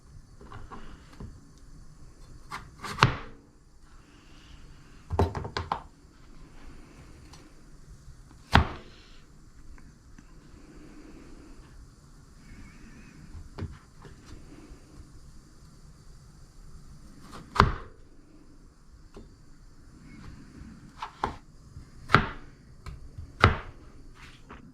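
Potatoes are sliced into thick chip fingers with a knife on a board, giving sparse, irregular sharp chops, some in quick pairs, with quiet gaps between them.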